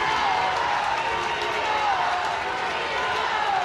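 Applause and cheering from the Boreham Wood crowd at a Women's Super League football match between Arsenal and Manchester City greet Beth Mead's return, a broad steady roar of clapping that stays constant throughout, with a commentator talking over it.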